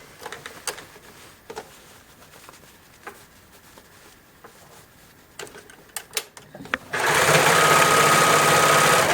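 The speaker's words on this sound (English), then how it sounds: "So now I'm sewing the sleeve into the armhole" A sewing machine stitches a sleeve into the armhole of a protective gown: scattered taps and handling clicks give way to a loud, rapid, steady mechanical whir up close for the last couple of seconds.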